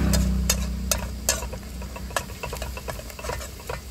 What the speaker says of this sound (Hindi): दोस्तों अच्छी तरीके से फ्राई हो गया